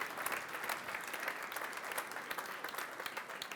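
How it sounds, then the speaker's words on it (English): An audience applauds a speaker at a EuroShop 2020 network event, giving dense, steady clapping from a medium-sized crowd that carries evenly throughout. "A round of applause for Francesco,"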